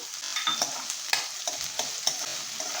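Chopped onion, spring onion whites and green peas sauté in a pan for a potato bhaji, a steady close sizzle broken by repeated scraping stirs of a spatula, with no voices.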